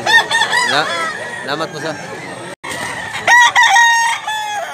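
A two-year-old Hennie gamefowl rooster with yellow legs crows loudly and close, with overlapping crows and clucks from other fowl, and someone speaks briefly.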